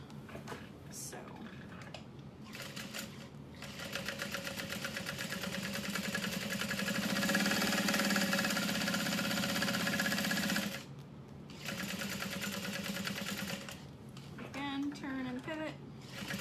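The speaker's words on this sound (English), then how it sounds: "we're gonna leave our needle in and pivot, turn down, and sew." A sewing machine stitches a bucket bag in bursts, running steadily for several seconds, pausing briefly as the needle is left in to pivot, then sewing again, with someone talking over parts of it.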